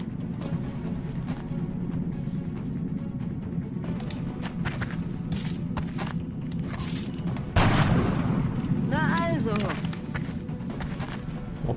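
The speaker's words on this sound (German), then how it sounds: "Ballern, was das Zeug hält" Gunfire and heavy booms in the game XCOM: Enemy Unknown, a continuous stream of thumping shots and impacts, with a louder blast partway through, mixed with someone talking over it.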